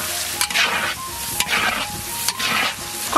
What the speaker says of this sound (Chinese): 再来一碗黄豆酱，也炒香